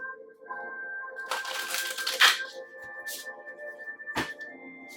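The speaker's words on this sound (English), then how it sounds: "2 more shuffles." Tarot cards are shuffled by hand over a steady background hum, giving a few short bursts of crisp riffling and flicking, one longer rustle followed by quieter snaps and a single sharp slap.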